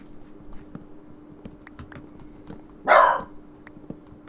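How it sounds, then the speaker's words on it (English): A pet dog gives one short, sharp bark from nearby while quiet keyboard typing and clicks tick along in the background. "I apologise, that's my dog."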